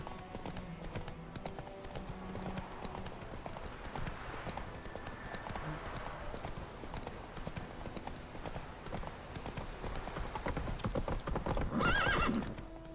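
Horse hooves clip-clop in a steady gallop in The Witcher 3 video game, ending with a loud, close whinny near the end, over a busy game soundscape.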